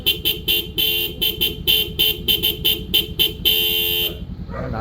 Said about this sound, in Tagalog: So sound check tayo sa Denso horn.